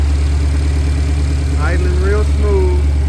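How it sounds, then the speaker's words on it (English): A truck engine fitted with Holley Sniper EFI idles steadily and loudly up close, a low constant drone, while a voice speaks briefly over it. "idling real smooth."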